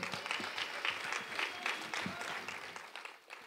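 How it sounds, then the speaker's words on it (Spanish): Congregation applauding during a church service, a steady wash of many hands clapping across the room, moderately loud and sustained throughout, with a few voices mixed in. "¿Por qué no le damos un aplauso a nuestro hermano Will?"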